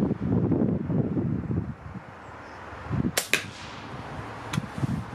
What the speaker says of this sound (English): So I'll take a shot and I'll go for the pellet.